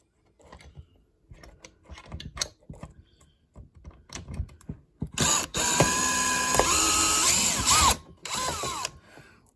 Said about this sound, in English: now with a little bit of effort, I think I can take those 3 screws out real easy